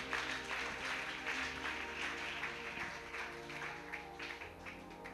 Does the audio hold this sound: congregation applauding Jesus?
yes